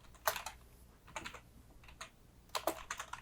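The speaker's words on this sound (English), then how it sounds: "type your message" Typing on a computer keyboard while writing a chat message: a few quiet, scattered clusters of clicking keystrokes with short pauses between them, close and soft.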